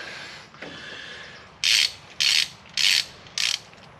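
A ratchet runs bolts down during a clutch and flywheel install in an engine swap, giving four bright, close clicking bursts, each about half a second long, evenly spaced after a quieter start.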